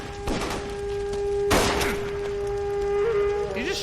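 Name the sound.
gunshot in the video game LA Noire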